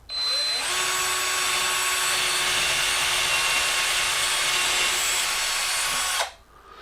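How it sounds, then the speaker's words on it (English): A Black & Decker BCD001 cordless drill bores a hole in a piece of wood, giving a loud, steady whining whir for about six seconds before it winds down and stops. "Here's just a quick demonstration of drilling a hole in some wood"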